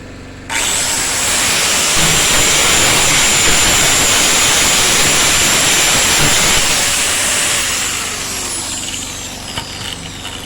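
A generator runs under load while MIG welding, giving a loud, continuous roaring hiss that starts abruptly and holds steady for several seconds before easing off.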